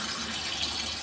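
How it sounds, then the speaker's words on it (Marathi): Water pours steadily into a vessel holding flaxseed for homemade hair gel, a short, even, hissing gush heard up close with no talking. "तर त्याच्यासाठी आपण इथं 3 ग्लास पाणी घालूया."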